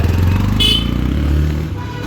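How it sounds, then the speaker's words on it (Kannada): Motorcycle rolling up nearby, its engine putting out a loud low throb that holds steady and then eases off slightly. "ಇದೆ ನಮ್ಮ ಬೈಕ್."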